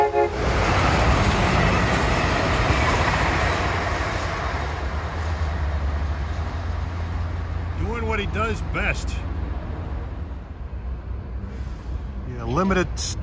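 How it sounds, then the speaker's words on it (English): A SEPTA commuter train, number 712 from Trenton to Chestnut Hill East, rumbles loudly past at a Bucks County, Pennsylvania stop, its roar fading over several seconds, with people talking over it and near the end. "here comes Septa train 712 from Trenton to Chestnut Hill East"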